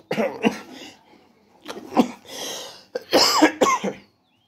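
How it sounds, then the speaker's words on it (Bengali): A person with a cold coughs close to the microphone in several harsh, rough bursts separated by short pauses, ending with a clustered pair of coughs. "একটু সর্দি কাশি হয়েছে"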